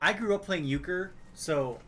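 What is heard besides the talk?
No everyday noises stand out.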